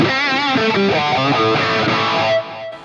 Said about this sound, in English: Scene 2 was the lead sound with the TS808 drive, the phaser, and the delay.